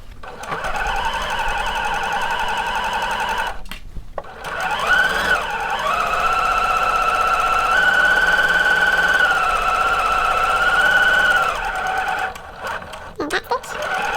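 Sewing machine backstitching a seam on shorts or pants, a quarter inch from the first stitching: a long, steady, motor-driven whir with a rising and falling tonal hum, broken by brief pauses at the start and end.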